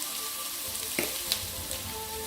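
Firecracker prawns stir-fry in a wok over high heat, giving a steady close sizzle broken by a few light clatters of stirring.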